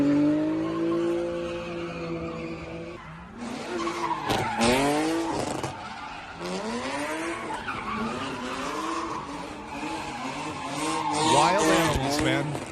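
Cars doing burnouts at a street takeover in an intersection in San Francisco, with sustained tire squeals and skidding over revving engines, loud and continuous, with shouting crowd voices mixed in.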